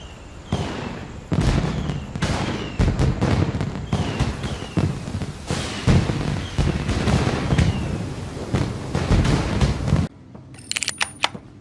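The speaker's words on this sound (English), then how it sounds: "The lovely fireworks show that follows is a fun little bonus for gamers who sort them out." A fireworks show plays as an easter egg in a video game, with a long run of repeated loud bursts, crackles and pops close together, then a short quieter sparkle of crackles at the end.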